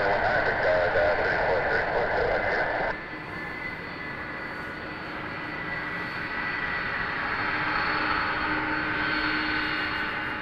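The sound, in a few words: jet aircraft taking off at Toronto Pearson Airport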